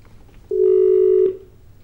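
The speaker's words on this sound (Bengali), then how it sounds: "ফোনটা বোধহয় আমাদের হ্যাঁ যোগাযোগ চলে গেল" A single steady telephone tone sounds for about three-quarters of a second against a quiet line, then cuts off abruptly as the call disconnects.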